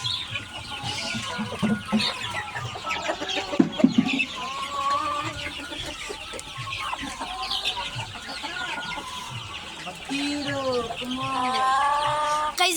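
Several chickens clucking close by, with repeated rising calls and busy overlapping clucks from a flock, fairly loud and continuous.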